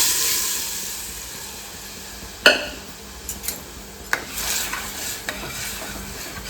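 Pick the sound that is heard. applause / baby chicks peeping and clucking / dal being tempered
dal being tempered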